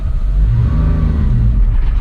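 A 1993 Suzuki Carry 4x4 kei micro truck's small engine pulls in third gear from a near stop, its loud, close droning hum rising gradually in pitch over a steady low rumble, with no talking.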